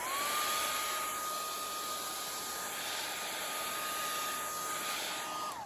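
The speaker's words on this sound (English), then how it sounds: "maybe we'll just hit it with the hair dryer" A hair dryer blows with a steady, loud, airy whoosh and a constant whine, running unbroken for several seconds.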